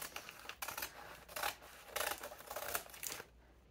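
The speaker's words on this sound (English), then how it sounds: "I'm going to cut off this little corner." Scissors snip through clear plastic laminate on a library book jacket, several quiet crisp cuts in an irregular rhythm before stopping, close and faint with no speech.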